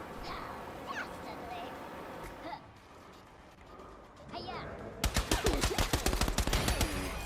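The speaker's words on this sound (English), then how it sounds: "We got a gunfight up the top." Video game gunfight: after a stretch of quieter game ambience with faint voices, a loud rapid burst of automatic gunfire erupts and keeps rattling to the end.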